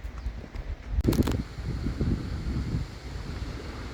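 Lake waves lap the shore at Kaslo while a breeze gusts across the microphone, a soft, steady wash with a short louder burst of wind noise.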